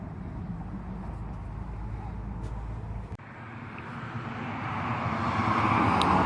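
A vehicle pulls away from a rural homestead on a frosty day, heading off on an errand; its broad engine rumble shifts after a brief thump and grows steadily louder and brighter over several seconds, with no talk.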